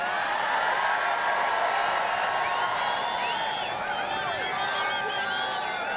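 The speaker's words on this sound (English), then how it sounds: "What a crowd." A large crowd at an outdoor political rally in Freeland, Michigan roars and cheers in a steady, dense wash of voices that never lets up, with whoops rising above it.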